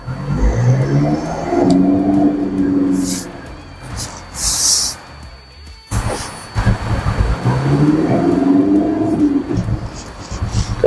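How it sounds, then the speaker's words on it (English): Great Wall Tank 300 diesel SUV engine laboring steadily as it crawls uphill off-road with the rear locker engaged, a continuous low drone with a brief dip midway, under the driver's talk. "The vehicle crawls right up."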